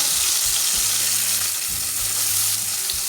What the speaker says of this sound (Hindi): एक मिनट तक फ्राई कर लेंगे।